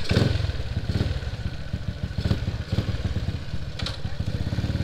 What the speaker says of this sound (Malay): kita nak suruh owner try dulu motor dia